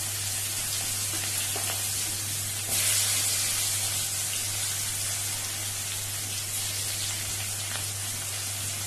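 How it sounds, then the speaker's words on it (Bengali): Chopped onion frying in hot mustard oil makes a steady, loud hiss and sizzle that keeps going the whole time, with a brief surge in intensity near the middle, over a constant low hum. "তেলটা গরম হয়ে গেছে, এবার আমি এতে দিয়ে দেবো পেঁয়াজ কুচি।"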